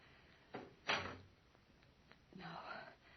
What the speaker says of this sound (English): and shut the doors behind us.